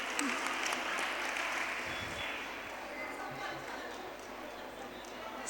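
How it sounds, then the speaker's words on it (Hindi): Fairly quiet applause from a small group at an evening meditation and yoga camp session, a dense patter of claps that slowly thins and fades, with faint voices underneath. "तालियां तो बनती है।"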